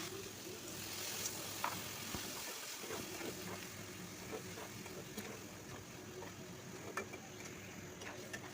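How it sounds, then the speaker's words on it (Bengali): Spices with ginger-cumin paste fry in a pan, giving a steady, quiet sizzle with scattered faint pops and ticks throughout. "আদা জিরা বাটা দিয়ে কিছুক্ষণ আমি এটাকে কষিয়ে নেব।"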